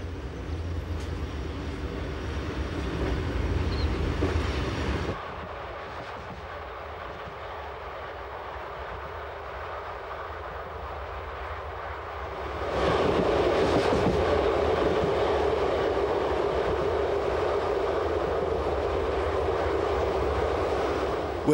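BLS Lötschberg train riding along the Kander Valley tracks toward Lake Thun, a steady low rumbling roll with wheel noise that drops quieter for a stretch and then swells louder again.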